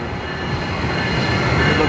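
An Amtrak train rumbles past close by in San Diego, a loud continuous roar of wheels on rails with a faint high squeal running through it.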